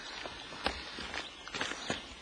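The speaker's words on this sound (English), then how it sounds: "as Bob, you can hear him nailing in the background now as he goes down through" Hammer blows driving nails through a ridge vent along a roof ridge, a few sharp, fairly faint knocks spaced irregularly over a steady outdoor background.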